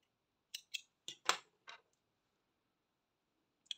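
Scissors snip through yellow yarn while crocheting flowers, five or six short crisp cuts in quick succession, then a pause and another snip at the end, close and fairly quiet.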